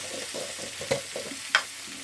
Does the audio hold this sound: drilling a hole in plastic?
no